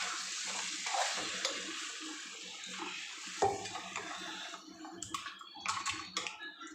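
Hot mutton stock, from boiled mutton, is poured into a pot of cooked spiced meat, a close splashing, hissing water sound with some clinks and light clatter of utensils toward the end.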